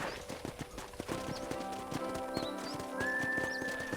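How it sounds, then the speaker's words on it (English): Horse hooves clip-clop at a steady walking rhythm on a ranch in the Red Dead Redemption video game, close and distinct over soft background music, with a brief whinny. "I picked out a fine horse for you."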